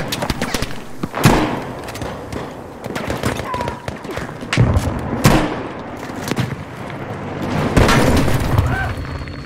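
Heavy booming blasts from a tank in Battlefield 5 fire every couple of seconds, amid scattered gunfire and thuds, with a voice talking underneath.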